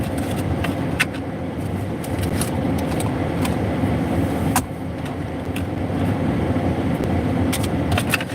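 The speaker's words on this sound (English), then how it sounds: "Should I leave the car running for you?" A car engine idles steadily with a constant low rumble, while sharp clicks and taps from inside the vehicle break through now and then, with no talking.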